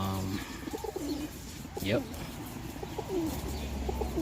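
Birmingham roller pigeons coo in soft, repeated low calls from nearby, with light chirps and background rustle; a person briefly speaks.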